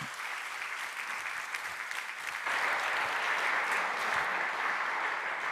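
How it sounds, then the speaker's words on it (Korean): A church congregation at a Korean Wednesday night worship service claps in sustained applause, a dense steady crackle that grows louder about halfway through, with no speech over it. "박수"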